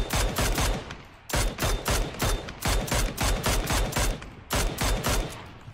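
Bursts of rapid automatic gunfire in the PUBG battle royale game, loud repeated volleys of sharp shots separated by short pauses, with no voices over them.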